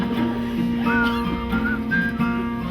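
Someone whistles a short, wavering tune, close by, with breaks in the melody.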